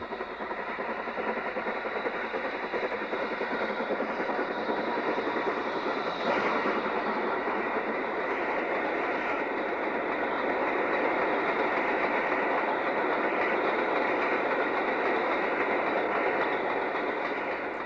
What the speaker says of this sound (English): Q6 63405 takes a flyer at the bank with empties for Hetton